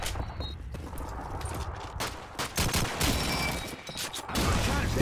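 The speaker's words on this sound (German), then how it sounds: "Ich höre so viele Granaten." Grenade blasts and gunfire in Call of Duty 2 combat, a steady crackle of distant and near shots broken by heavier thumping bursts, continuous and fairly loud, with no voices.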